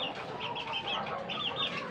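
A mother hen and her chicks cluck and peep steadily while feeding, a busy, continuous chatter of soft clucks and high chirps close by on a farm.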